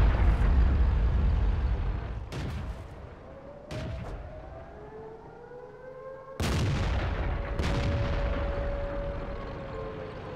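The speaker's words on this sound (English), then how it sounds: "Oh, I see he's going to get done by artillery." Artillery fire in the tank video game World of Tanks: several heavy booming shots and impacts spaced a few seconds apart, with whistling shell tones rising and sliding between them over a rumbling battlefield background.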